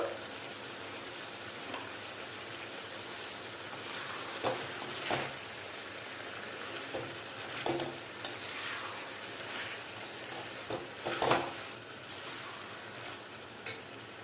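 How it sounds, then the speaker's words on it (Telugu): Tripe frying with half a teaspoon of turmeric for an Andhra-style raw mango curry gives a low, steady sizzle, punctuated by occasional spoon scrapes and knocks against the pan, quiet and close. "బ్రౌన్ కలర్ వచ్చే వరకు వేయించుకోవాలండి"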